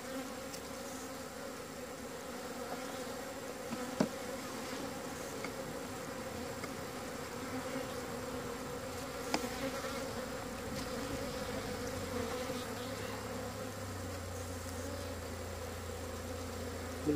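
Honeybees buzzing around an open hive during an autumn inspection of frames, a faint, continuous hum with occasional soft knocks and handling noises, no voices.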